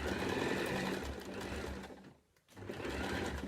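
A sewing machine stitching a fabric face mask, a loud close steady whirring drive that pauses briefly midway and then resumes running.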